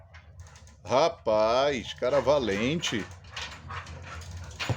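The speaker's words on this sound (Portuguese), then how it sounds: "A cachorro aqui tá revoltado." Agitated dog indoors giving whimpers and short barks up close, mixed in with someone talking to it over the noise.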